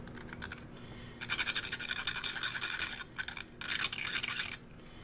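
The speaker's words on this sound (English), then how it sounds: "Just take some sandpaper." Sandpaper deburring the end of a small watch part, heard as close, steady bursts of scratchy rubbing in two main stretches with a brief pause between, no talking.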